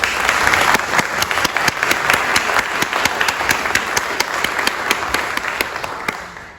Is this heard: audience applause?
yes